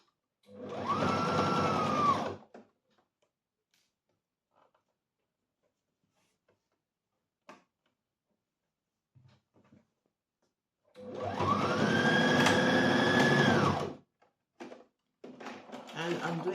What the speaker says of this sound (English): And I'm doing a back stitch at the end